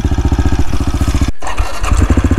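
A motorcycle engine close by pulses in rapid, throbbing beats, briefly cuts out, then picks up again with rising revs as the rider pulls away on a road trip toward Romania.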